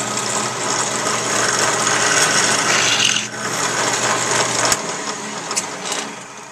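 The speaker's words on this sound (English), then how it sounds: "use a drill press." A drill press with a countersink bit grinds steadily into wood, a harsh rasping whir close by that dips briefly midway, with a few sharp scrapes near the end.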